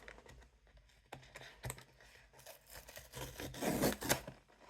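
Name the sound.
pulling the pull tab open on a blind box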